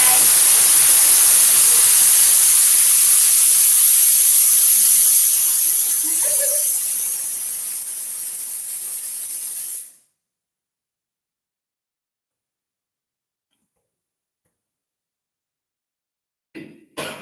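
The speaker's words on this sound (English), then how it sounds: "Okay, so pressure cooker noise." Steady, loud hiss of steam venting from a pressure cooker while curried turkey necks cook, running continuously for about ten seconds before cutting off abruptly into silence, followed by a couple of faint clicks.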